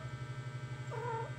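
Stray cat giving a single short meow near the end, faint and close, over a steady low humming background.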